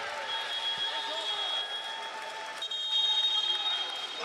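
Basketball arena crowd during a TV timeout in the second half of a PLG game between the Kaohsiung Steelers and Tainan TSG Ghosthawks, a steady roar of cheering and scattered clapping with piercing whistle or noisemaker tones over it.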